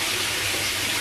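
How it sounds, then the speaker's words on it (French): Tap water runs steadily while fruits and vegetables are washed with vinegar, a constant close broadband rush with no pauses and no voices. "je lave tous mes fruits et légumes avec du vinaigre"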